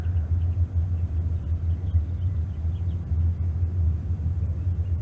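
A second-generation Camaro drag car sits in the left lane at a raceway, its engine giving a deep, steady, loud rumble that holds evenly throughout with no voices.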